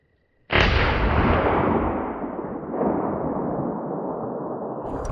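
A single loud crack from a 300 Win Mag sniper rifle fired outdoors, bursting out of near silence and followed by a long rolling echo that slowly fades over several seconds.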